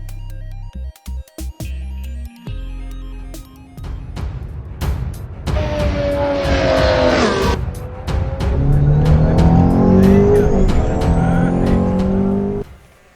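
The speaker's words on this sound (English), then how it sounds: "This is a Superkart, a tiny race car that's as fast as a GT3 or F3 car, and now it's come to rFactor 2 for free." A Superkart, a tiny fast race kart in rFactor 2, revs its engine after a few short blips, then screams at high pitch through climbing gear changes, with tire squeal, loud and close for the rest of the run.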